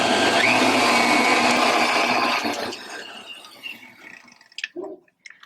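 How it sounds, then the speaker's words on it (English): An electric mixer whisks eggs and sugar with a loud, steady whirring drone that fades out after a few seconds. A few clinks and light taps follow in the near quiet. "going to add our eggs and some sugar, and we're going to whisk that for about 2 minutes."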